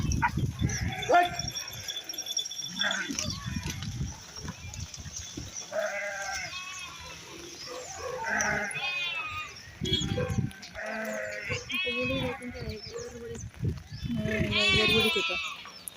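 A flock of sheep bleats repeatedly, several animals calling over one another at close range, with some human voices mixed in.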